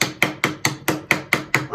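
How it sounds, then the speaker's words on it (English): A regular hammer taps lightly on a differential part, eight evenly spaced sharp metallic knocks ringing close by in a steady rhythm, with no speech. "if you tap it light enough with a regular hammer"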